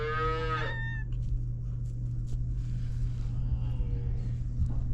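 A cow lets out one loud, close moo at the start inside a farm barn, followed by quieter barn ambience with a steady low hum and faint shuffling noises.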